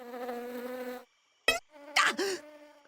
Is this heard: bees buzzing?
yes